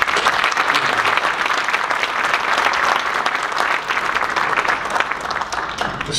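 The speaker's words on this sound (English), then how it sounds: "ask the audience in joining me for a round of applause for Peter, Carol, and all the people" Audience at an investment conference on gold and natural resources breaks into sustained, dense applause, clapping loudly and evenly throughout with no talking over it.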